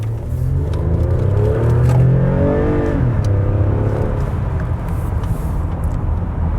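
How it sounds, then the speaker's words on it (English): A used car's engine is pushed hard from near a stop on a test drive, a loud, close rumble with rising whining tones as it accelerates through the gears, steady and strong, without talking. "that is a pretty healthy engine."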